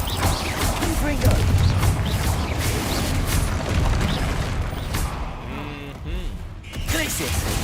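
Confringo fire spells blast repeatedly during Hogwarts Legacy combat, a dense, loud barrage of booms and crashes layered with mechanical clatter and voices throughout.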